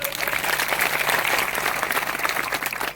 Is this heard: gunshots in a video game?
no